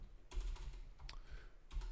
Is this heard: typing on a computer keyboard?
yes